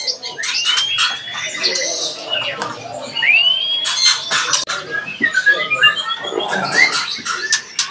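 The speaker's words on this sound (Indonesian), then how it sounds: "Nah ini namanya burung murai trotol jahat indenan lagi ya" A caged white-rumped shama (murai batu trotol) gives bright whistled calls and sharp squawky chirps at close range, with voices murmuring in the background.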